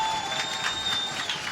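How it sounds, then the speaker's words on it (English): Crowd at a canoe slalom finals at Lee Valley cheering and applauding, a steady wash of clapping and cheers held at moderate level throughout. "the crowd encouraging it today"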